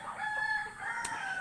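Chickens on a rural farm crow in a long, sustained tonal call, with clucking mixed in over a steady ambient background.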